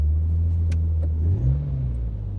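A Mitsubishi FTO's exhaust revs up close and loud, a deep rumbling idle swelling into a short throttle blip before settling back, with no talk over it.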